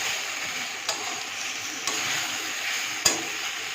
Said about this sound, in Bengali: চালটা ভাজা হয়ে গেলে তারপর তার মধ্যে জল ছেড়ে দেব।